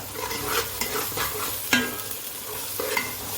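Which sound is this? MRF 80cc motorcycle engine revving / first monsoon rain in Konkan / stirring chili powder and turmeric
stirring chili powder and turmeric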